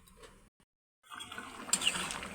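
Water poured into a cooking pot holding potatoes and pointed gourd for an egg curry, a short splashing fill that starts after a brief pause and runs on steadily, close by with no talk.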